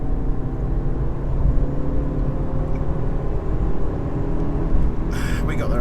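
A small Ford Fiesta's engine strains at full throttle, a steady low droning rumble with road noise heard from inside the cabin, continuous and even, with a brief voice near the end.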